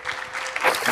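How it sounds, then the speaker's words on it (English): Conference audience at an XR accessibility symposium claps in a brief, dense burst of applause for a panel speaker, moderately near. "So everybody, please give him a round of applause."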